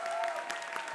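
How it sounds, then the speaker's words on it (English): Lecture audience clapping for a guest speaker in a hall, a short burst of dense, sustained applause lasting under a second. "John Inazu, give him a big round of applause."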